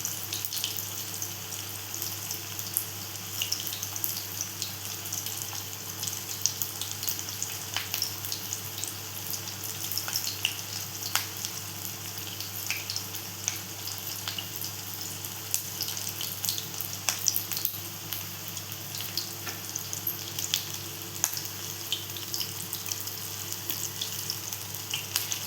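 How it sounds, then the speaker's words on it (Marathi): Potato and poha cutlets sizzle steadily in oil over a medium gas flame, a dense, continuous crackle with scattered sharper pops, close and unbroken for the whole stretch, with no speech. "आता इथे आपण फ्राय करून घेतोय, बघू शकता तुम्ही."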